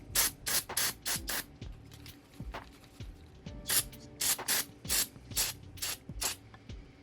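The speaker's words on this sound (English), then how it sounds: "we're going to go ahead and just hit them all with some brake cleaner" Brake cleaner sprays in short, sharp bursts onto spark plugs from a Honda Civic Hybrid, close and crisp hisses in quick clusters with brief pauses between, with no talk.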